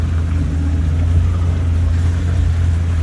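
Suzuki Samurai engine labouring in low gear off-road, a loud, steady low rumble that holds without a break.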